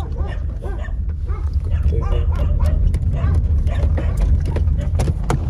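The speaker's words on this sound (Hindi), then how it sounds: "कुत्ते ही पड़ गए।" Several dogs bark and yip in quick overlapping bursts, loud and near, over a constant low rumble that sounds like a running vehicle or engine, with no clear speech.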